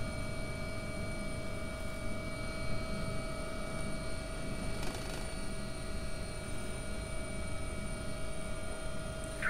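AW-139 helicopter in the X-Plane 11 flight simulator, London air ambulance setting: a steady, loud rotor and turbine drone with fixed whining tones runs unbroken throughout, no voices.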